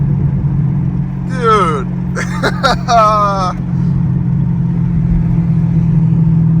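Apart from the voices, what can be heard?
Chevy Camaro LT1 V8 exhaust popping after AFM delete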